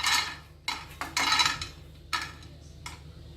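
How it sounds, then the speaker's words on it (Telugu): Peanuts stirred in a pan over a medium flame for a village-style sorrel-leaf dish, giving close, bright scraping and rattling bursts with short pauses between strokes, no talking. "ఈ పల్లీలను మీడియం ఫ్లేమ్లో ఇలా కలుపుకుంటూ మంచి కలర్ వచ్చే వరకు ఫ్రై చేసుకోవాలి."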